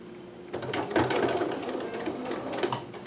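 After a brief quiet moment, a sewing machine starts up and stitches a dress made from McCalls 6701 straight through the boning, running close and steady with a slight stutter near the end.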